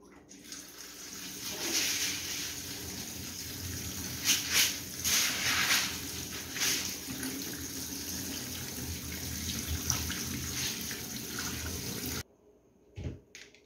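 Water runs from a kitchen tap for boiling sausage for feijoada, a steady rushing stream with splashes changing pitch as the pot fills, then cutting off near the end.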